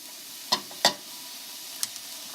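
Alphabet pasta sautés in a pan with a soft, steady sizzle, broken by a few sharp clinks of a utensil against the pan.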